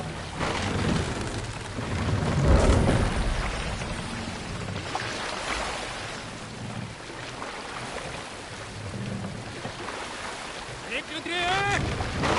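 Longship under sail on the open sea in Assassin's Creed Valhalla, with rushing wind and waves washing against the hull in swelling surges, and a voice speaking briefly over the constant sea noise.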